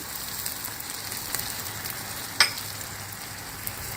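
Vegetable noodles with chicken and fresh cream are stirred in a pan, a faint continuous fizzing sizzle with soft stirring rubs and one brief sharp clink, quiet and close, no voices.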